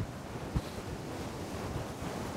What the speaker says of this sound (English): It's very windy, as you can hear and probably see.